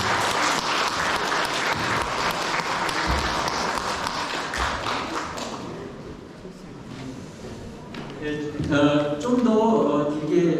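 An audience at a literary award ceremony breaks into sustained applause, dense clapping that fades partway through, then crowd murmur and a voice come in near the end.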